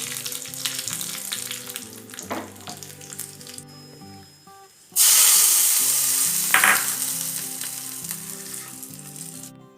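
Mustard seeds, curry leaves and a dried red chili hitting hot oil for kara chutney, a bright sharp sizzle with crackling pops and stirring that surges loudly halfway through, then settles into a steady fry.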